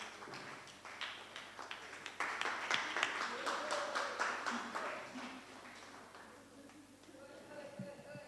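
At a World Sickle Cell Day advocacy event in Kenya, faint, distant audience applause builds into a dense patter and then tapers off, with voices in the background.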